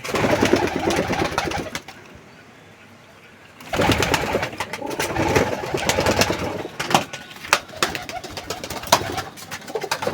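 Pigeons coo repeatedly at close range around a nesting box with eggs, with a short quieter gap early on and scattered rustling and clatter around the calls.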